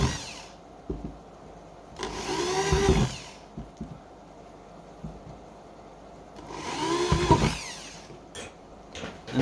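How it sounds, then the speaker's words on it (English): A power drill whirs in two separate bursts, each a few seconds long, biting into material up close, with quiet handling noises in between. "Then you drill your initial holes on the markings you just made."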